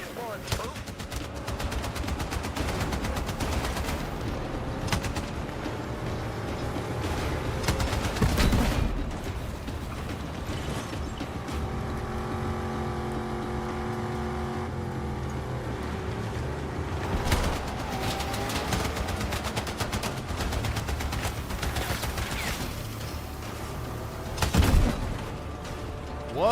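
Gunfire in the video game Battlefield, with dense machine-gun bursts and shots running steadily beneath continuous engine and vehicle noise, plus a couple of heavier booms, while people talk over it.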